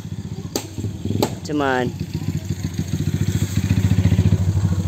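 Small motorcycle engine idling with a rapid, rattling putter near a rural cornfield, with a couple of sharp knocks and a brief whine, while a person speaks over it.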